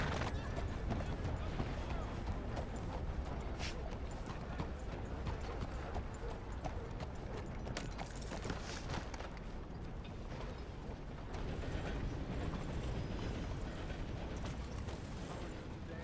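Horse hooves clip-clopping with an occasional whinny in Red Dead, set against a dense, steady wash of game ambience and mechanical creaks, with speech mixed in throughout.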